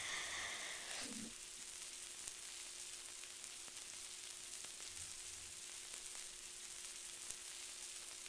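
A fryer in the Roblox game Bloxburg gives off a steady, quiet sizzling hiss that runs unbroken for several seconds, with a brief low thump near the start and no voices.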